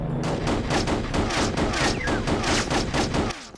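Rapid, evenly spaced gunshots from the video game Chicken Blaster fired at a wooden box in a forest level, a loud sustained volley that cuts off abruptly near the end.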